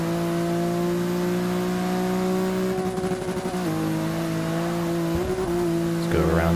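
BMW race car in Forza Motorsport 6 at Sebring, a steady sustained engine drone that shifts pitch as it hops over curbs, with brief rough rattling bumps midway and near the end.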